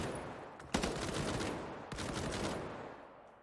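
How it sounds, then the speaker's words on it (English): Bursts of SMG gunfire trade back and forth in a competitive video game match, two sharp volleys standing out over a dense, continuous rattle of shots. "It's more just been the frantic SMG exchanges on the sides"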